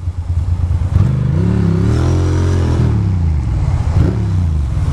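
A Ducati motorcycle ridden through Brooklyn streets between Dumbo and Williamsburg, its engine droning loud and close with rising and falling revs over a steady road rumble.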